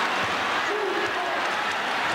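A basketball arena crowd at a 1991 Clemson at NC State game roars and cheers continuously as fans stand, a dense, loud wall of noise with scattered whoops throughout.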